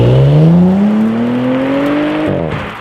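A 2019 Audi S4 accelerating hard, its engine note climbing steadily in pitch through a gear before a brief drop at the shift, loud and close with no talk.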